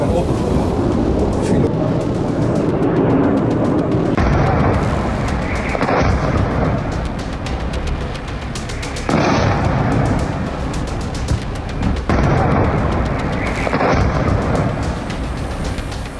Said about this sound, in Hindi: 12 घंटे में 300 से ज्यादा मिसाइलों के प्रहार से ईरान ने इजराइल